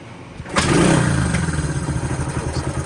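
A Honda CT90 motorcycle on its stand is kick-started and catches with a sudden loud burst and a throttle blip, then keeps running in a steady, close, throbbing idle with no talking.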